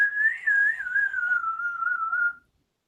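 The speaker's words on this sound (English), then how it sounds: "I can even whistle with crackers in my mouth" A person whistles a single sustained, wavering tone close to the mic, gently bending pitch for about two and a half seconds before stopping into silence.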